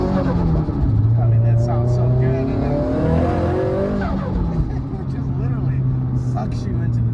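Nissan Silvia Spec R S15 accelerating from inside, engine note climbing through the revs with a gear change, then settling into a steady drone, with a person talking over it.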